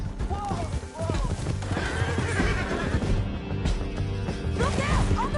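In Red Dead Redemption 2, horses neigh and whinny repeatedly over rapid galloping hoofbeats, with crashes, shouting voices and busy action sound layered densely throughout.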